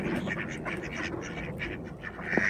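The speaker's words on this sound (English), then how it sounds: "Hey, Bax, see the ducks?" Ducks quack on a snowy walk outdoors, a busy cluster of overlapping calls at moderate distance over a steady background wash.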